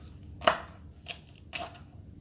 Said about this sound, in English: So I'm going to chop some green onions.